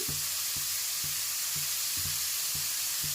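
Onions frying in a pan with salt and a pinch of asafoetida give a steady close sizzle, punctuated by regular soft knocks of stirring roughly every half second, with no talking.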